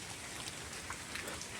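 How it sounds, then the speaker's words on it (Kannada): Rain falling through a forest near a temple, a soft continuous patter of drops on leaves and ground, faint and even, with no voices. "ಮತ್ತು ಮಳೆ ಸಹ ಬರ್ತಾಯಿದೆ"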